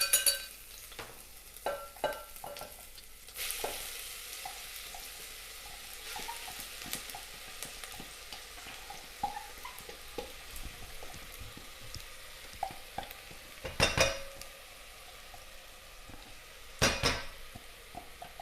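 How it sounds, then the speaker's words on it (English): Onions and aromatics frying in hot oil for a chicken korma, a low continuous sizzle broken by utensil scrapes, pan knocks and two sharp clanks, with no talking. "So once your oil is hot and your aromatics have gone in, you can smell them. You can then pop your onions in."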